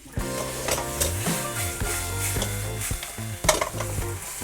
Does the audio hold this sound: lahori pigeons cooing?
no